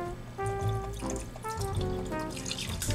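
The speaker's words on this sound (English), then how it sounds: "we're gonna put in half of this carton, or you can use one can of beef broth." Beef broth from a carton glugs and splashes into a slow cooker holding a roast, a close, steady pour with bubbly liquid gurgles over about three seconds.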